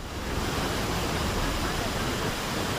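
Waterfall in Sawai Madhopur, Rajasthan, gushing and overflowing after torrential monsoon rain, a steady broadband roar of rushing water holding even and loud throughout.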